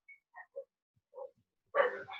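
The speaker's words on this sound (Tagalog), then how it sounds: "Bukod sa maingay naming aso, narinig pa ako ng maliwanag kahit may tahol sa background." A household dog barks in the background of an online Zoom math class, giving a few short, faint yips and whimpers before a louder, rougher burst of barking near the end.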